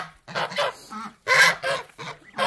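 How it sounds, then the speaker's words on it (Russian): A pet duck honks in a few loud, harsh bursts close by, with brief pauses between the calls. "Где моя уточка?"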